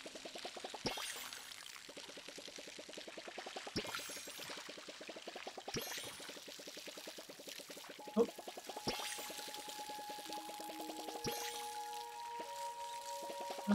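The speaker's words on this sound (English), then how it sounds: "Now we just have to water all of them." Watering plants with a watering can in the video game Palia, a steady pouring trickle running through most of the scene, broken by a few short, sharp clicks and bursts, with faint tonal game chimes layered in.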